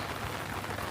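Heavy morning downpour on the Camino de Santiago pilgrimage route in Spain, a dense, steady rain hiss with no voices.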